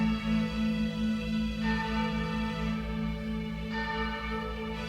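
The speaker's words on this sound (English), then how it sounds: "Church bells." Church bells toll steadily, a sustained ringing chime with long resonant overtones, filling the clip without any talking.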